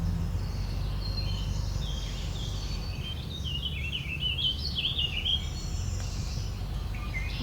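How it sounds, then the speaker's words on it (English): An orchard oriole sings in a run of quick, varied whistled phrases, fairly distant, over steady low outdoor rumble, with other birds faint in the background. "And orchard oriole is here, it is singing."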